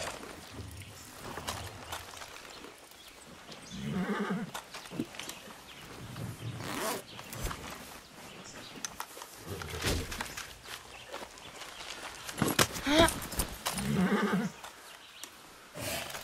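Horse in the video game Far Cry 6, with hoof steps and gear rustling at moderate distance, a few snorts or whinny-like bursts around the middle and near the end, no talk.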